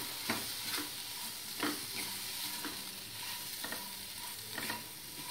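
Medium-sized cut potatoes frying and being stirred in a pan of hot oil for spiced achaari aloo, with a soft steady sizzle broken by several sharp scraping stir strokes.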